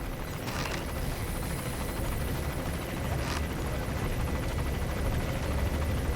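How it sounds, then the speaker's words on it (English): A helicopter in Metal Gear Solid V drones steadily and loudly for several seconds, a continuous rotor rumble with no talk over it. "Where is the helicopter?"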